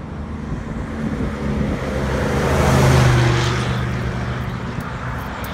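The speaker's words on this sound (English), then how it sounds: "Let's let this truck go by." A truck on a roadside passes by, its engine and tire roar swelling to a peak midway and then fading, with no talk over it.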